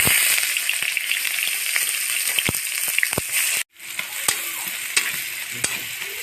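Onions sizzle loudly in hot white oil with browned sugar, a dense close hiss with sharp crackles, cutting out abruptly for a moment before the frying resumes just as strong.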